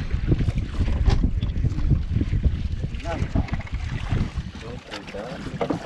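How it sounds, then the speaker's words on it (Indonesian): Strong wind gusts buffet the microphone on a boat at sea, a loud, rough roar with low rumbling bursts, while people call out to each other over it. "angin kencang"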